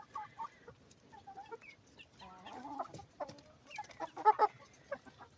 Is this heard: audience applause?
no